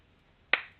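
A single sharp face-palm slap, one short crisp crack that fades quickly, against near silence.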